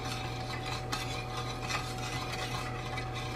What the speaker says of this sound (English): give it a little bitty stir